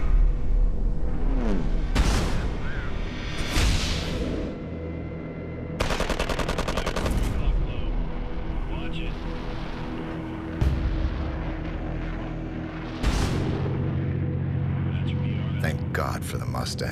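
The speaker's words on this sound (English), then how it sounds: "A shell bursts outside our waist window." Shell bursts and gunfire around a WW2 bomber in flight: repeated booms and rattling bursts of fire over a constant engine drone, near and loud, with a voice talking over it.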